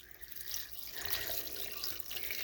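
Water pours steadily into a pot of rice mixed with bouillon and dehydrated vegetables, 3 3/4 cups in all, a continuous close splashing and trickling with no voices.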